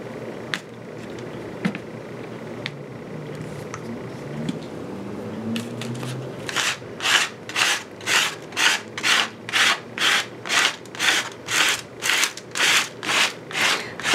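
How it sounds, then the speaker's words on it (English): Paint being scraped across a journal page in a mixed-media project, a steady run of about fourteen rhythmic rasping strokes after some quieter rubbing and handling, close and fairly loud with no talking. "I like to scrape paint."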